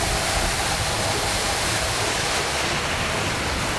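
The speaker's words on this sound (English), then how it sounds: "that volume of water that's coming out of that hydrant can be anywhere between 400 and 600 gallons a minute" A fire hydrant being flushed for the City of Oakdale sends out a steady, loud, roaring rush of gushing water that continues unbroken without any voices.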